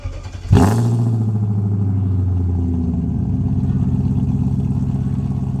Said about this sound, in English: Here was a warm startup before the exhaust modification.